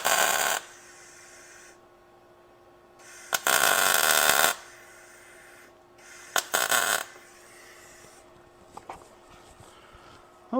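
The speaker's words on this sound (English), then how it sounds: "I'll set that up onto the housing there and put a couple of good tacks on it." Tack welds laid on a steel bracket set against an axle housing: three crackling bursts of welding arc, each roughly a second long with quiet gaps between, close by, followed by faint clinks.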